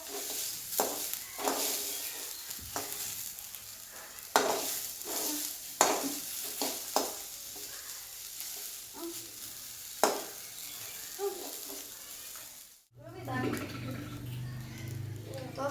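Corn kernels tipped into a hot pan and frying, with a steady sizzle, clattering stirs and scrapes of a spoon against the pan, cut off by a brief silence before a louder sizzle resumes near the end.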